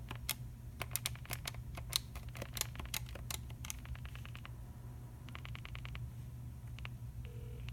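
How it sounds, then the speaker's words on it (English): Dialing a number on a Stanford dorm telephone: a quick series of faint, evenly spaced key presses, with short tone bursts sounding in clusters, close and quiet against a steady low hum. "So I'll dial that weather number again in San Francisco."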